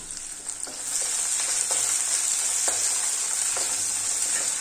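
Onions and green chillies sizzle steadily in a hot pan, a continuous bright frying hiss with occasional soft stirring scrapes, close and alone.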